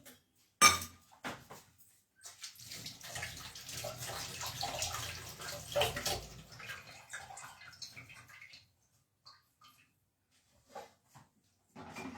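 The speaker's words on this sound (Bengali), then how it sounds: "এখানে আমি একটু হাতটা ধুয়ে নিই।" Hands are washed under running tap water, giving a continuous splashing rush of several seconds after an initial sharp knock, then a few faint drips and clinks as the flow stops.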